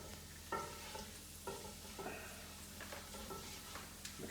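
A sizzling mixture for cashew chicken being stirred in a pan, with a steady frying hiss and repeated scraping strokes of the utensil, close and alone without any talk.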